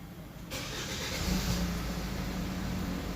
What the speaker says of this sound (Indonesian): Oke, yuk langsung kita nyalain aja. Kita coba ya starter mesin